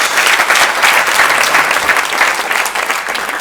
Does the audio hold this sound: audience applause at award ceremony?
yes